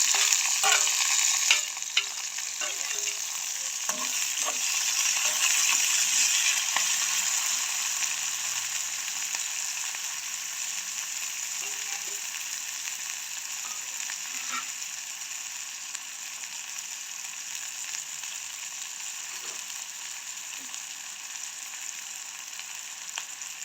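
Chopped onions and green chilies sizzle steadily in hot oil for a soya meat curry, with occasional scrapes and taps of a spoon stirring the pan; loud and close, no talking.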